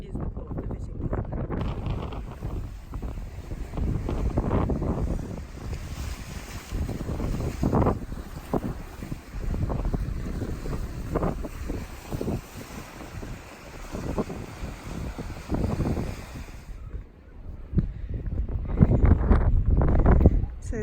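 Gusty wind buffets the microphone in uneven bursts at a fishing port where a river meets the sea, with a faint, washy background of water and boats beneath.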